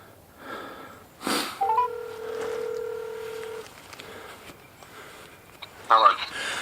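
A phone dials a call as a short burst of keypad tones gives way to a steady ringback tone, set among rustling, a sharp handling bump and breathing, with a faint voice nearby.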